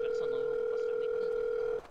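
A steady telephone ringing tone from a video game plays loud and alone, holding one unbroken pitch until it cuts off abruptly near the end.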